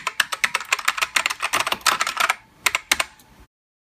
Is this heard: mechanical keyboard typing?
yes